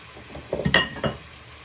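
Onion and garlic dropped into a hot pot for a prawn and green bean stew, giving a sharp sizzle burst and a clatter of stirring, then settling into a quieter steady fry.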